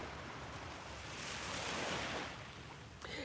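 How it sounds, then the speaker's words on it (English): Ocean waves wash onto a beach in a steady, rushing roar that swells in the middle, with some wind noise buffeting the microphone and no voices. "So I am at a beach I don't usually even come to."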